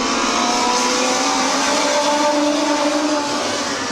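Stock race cars roar around the Midvale Speedway oval in 2004, a loud, continuous wash of engines with shifting pitch as several cars run close together through the corners and down the straightaway, with no talk over it.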